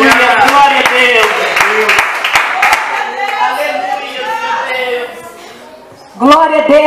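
A church congregation claps in praise at a worship service, with quick, irregular, sharp claps mostly buried under a loud amplified voice speaking and singing.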